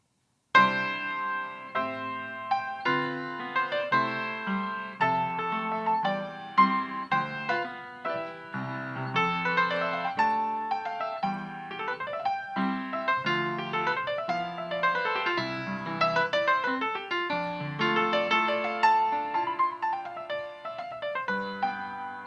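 Jazz fusion rendition on a piano-like keyboard blending European and African techniques, busy running lines and chords with sweeping melodic arcs, steady and moderately loud, no voices.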